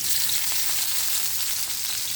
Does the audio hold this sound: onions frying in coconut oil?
yes